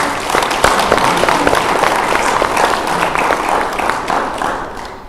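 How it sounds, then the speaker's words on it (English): Conference audience giving a big round of applause to a professor and his team, loud sustained clapping from a large crowd that carries steadily for several seconds before tapering slightly. "give Professor Mudisi and his team a big round of applause"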